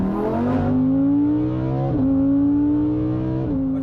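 A Porsche 991 GT3 RS engine at Goodwood revs loudly and steadily, its pitch climbing through gears with two brief dips around shifts, close and continuous with no talk.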